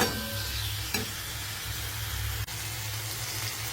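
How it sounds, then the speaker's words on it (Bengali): Chicken browns in a pan coated with ginger garlic paste, a steady sizzle with stirring scrapes and a couple of sharp utensil knocks, close and alone without talk. "মশলাটা কষা হয়ে গেলে এরপরে এই চিকেনটা খুব ভালোভাবে ভেজে নিতে হবে"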